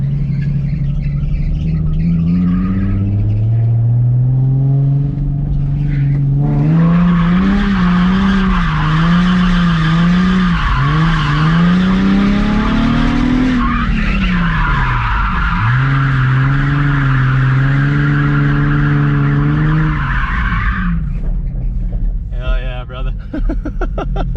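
A Nissan 350Z drifts around a lot, its engine revving loudly and rising and falling as tires squeal and skid continuously, with voices heard over the noise.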